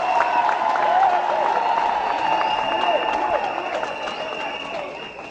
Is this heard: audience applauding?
yes